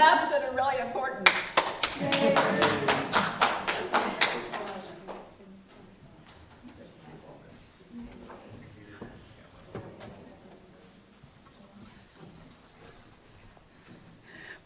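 People at a church service clap along in a quick steady rhythm to a birthday song, the loud claps filling the first few seconds before fading out under quieter talking.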